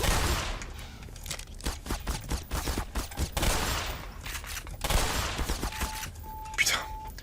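Rapid bursts of gunfire in the Black Mesa video game crackle on and off for several seconds as dense sharp shots over a busy in-game soundscape, with a faint high tone near the end.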